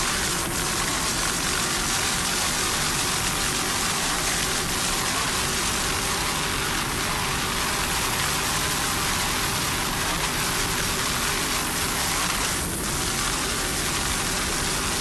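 An offshore racing powerboat with two 1,000 horsepower Bruce Falls inboard engines runs at the 1995 Key West World Championships, a loud, unbroken roar mixed with rushing wind and water noise throughout.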